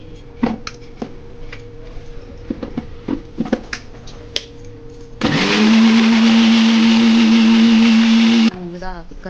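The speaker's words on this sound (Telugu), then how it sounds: "వేసి మిక్సీ పట్టాలి" A mixer grinder blends spinach, coriander, green chillies and salt, first with scattered taps and clicks, then a loud, steady whirring motor run of about three seconds that cuts off abruptly.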